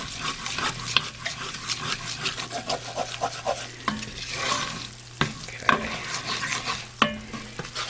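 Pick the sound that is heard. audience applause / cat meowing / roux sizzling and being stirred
roux sizzling and being stirred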